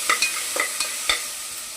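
Crushed turkey berries frying in hot oil in a pan, with a steady sizzle broken by a few scraping stirs of a spoon, heard close with no talk.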